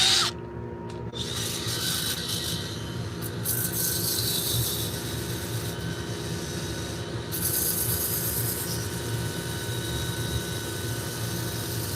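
Steady rasping and rubbing of sandpaper on a wooden bowl spinning on a lathe, over a constant motor hum, with brief pauses in the scraping.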